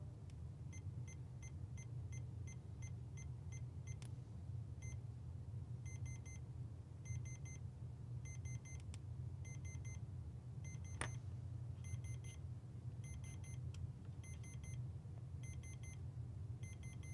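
An intruder alarm device is being set, giving repeated rapid electronic beeps in regular bursts over a low steady rumble, with a few clicks in between.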